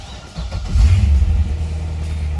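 A 2009 Corvette Z06 V8 with valved exhaust gives a short, deep rev that swells and settles back into a steady rumble, fairly close and moderately loud.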